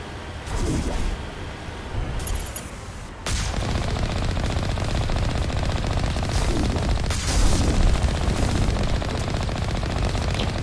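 Rapid, continuous weapon fire in Mass Effect Legendary Edition, sustained loud automatic bursts after a short quieter opening with a few isolated shots, steady and close throughout.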